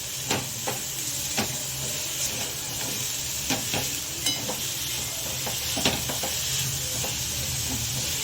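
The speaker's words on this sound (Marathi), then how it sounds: "आता हा गूळ याच्यामध्ये व्यवस्थित मेल्ट होईपर्यंत आपण हे सारण परतवत राहायचं आहे" Jaggery and coconut filling is stirred in a pan over a low flame, with a continuous soft sizzle broken by regular scraping strokes and light clinks of the spoon against the pan.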